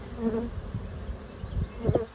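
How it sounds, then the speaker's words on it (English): A steady, low insect buzz from many honeybees fanning together up close at a hive box, with a few slightly louder swells near the end. "I got a lot of those bees into the box this time, and now look, they're all up here fanning"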